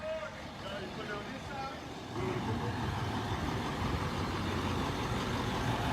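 Heavy trucks idle and rumble at a building renovation and clean-out site, a steady low engine drone that grows louder partway through, with faint voices in the background.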